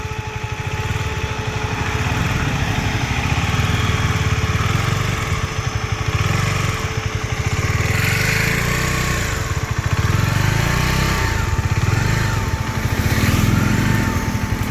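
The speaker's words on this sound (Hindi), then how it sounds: "स्टार्ट कर, फर्स्ट गियर पे कर, क्लच दबा पूरा, फर्स्ट गियर हो गया। हाँ, अब धीरे धीरे हल्का हल्का रिलीज कर इसको भी, और रेस दे" A KTM Duke 250 motorcycle engine, revved by a beginner rider, runs loud and close with a steady buzzing drone that swells gently as the throttle is eased open and shut, no talking over it.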